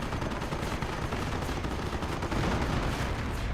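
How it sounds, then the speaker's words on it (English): Dense, continuous rumble of an artillery barrage in the game Company of Heroes, with overlapping blasts and crackling gunfire held at a steady loud level throughout. "Nope, that's an actual barrage"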